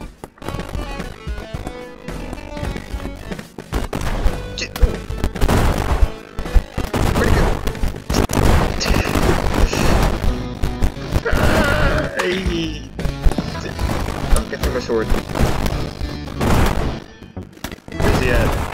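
Gunfire and clattering combat effects in an FPS chess video game, a busy stretch of repeated sharp shots and impacts mixed with other game noise, loud and dense over several seconds.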